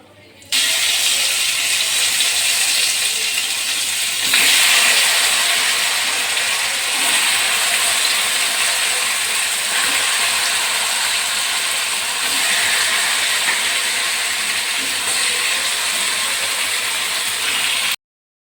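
Marinated chicken drops into hot oil seasoned with cardamom, starting a loud, dense, continuous sizzling hiss that holds steady for the whole stretch before cutting off abruptly.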